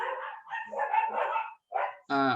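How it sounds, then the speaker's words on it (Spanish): Several dogs bark, yelp and snarl in a close, rough scuffle, with dense overlapping noise broken by a brief pause before a loud whimpering cry. "creo que se están matando mis perros"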